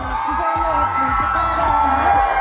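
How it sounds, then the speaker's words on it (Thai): Audience at a K-pop fan concert press conference in Bangkok cheers and shouts, a steady mid-loud crowd din with excited whoops, and no clear speech over it. "ขอเชิญปรบมือครับ"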